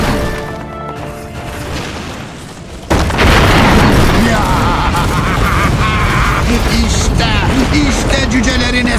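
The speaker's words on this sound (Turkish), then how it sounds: "Mancınığınız atıldı." A catapult launches in the Lord of the Rings: War of the Ring strategy game, a sudden heavy boom and crash that gives way to dense, loud battle noise, with game voices speaking over it.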